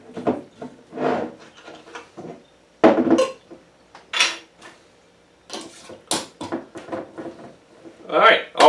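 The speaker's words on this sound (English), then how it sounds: "all we're going to do is put a lid on it" A lid goes onto a glass jar of caramel apple moonshine with a series of short knocks, clinks and scraping clatters. The sounds are close and sharp, and a voice talks intermittently between them.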